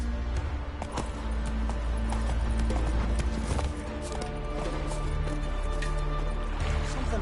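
Hooves clop in a rapid, rhythmic gallop as the horse Roach runs in The Witcher video game, loud and continuous over a low ambient rumble with faint game music tones.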